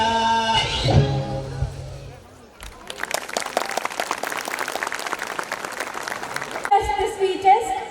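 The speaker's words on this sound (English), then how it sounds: "Let's give them another big round of applause for such an adorable act" Audience applause ringing out after a children's dance act at a school annual day, a dense burst of clapping that sets in after a stretch of music and talk and then breaks off as the voices come back.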